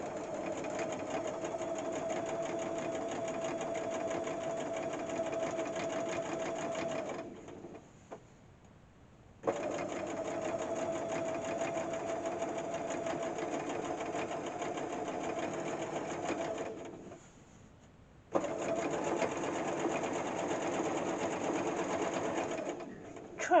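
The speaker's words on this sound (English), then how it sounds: "put it back under your machine with the right side facing out, and now you can just run a top stitch all the way down that seam" A sewing machine runs a top stitch down a flat felled seam, a steady close mechanical whir in three long runs separated by short pauses.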